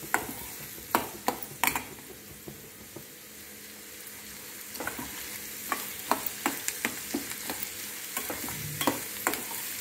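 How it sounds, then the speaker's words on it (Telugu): Onions and green chillies fry in a steel pan, giving a steady close sizzle broken by sharp stirring clicks and scrapes that grow more frequent toward the end. "తొందరగా వేగిపోద్దండి స్టీల్ కళాయిలో, జాగ్రత్తగా చూసుకోవాలన్నమాట,"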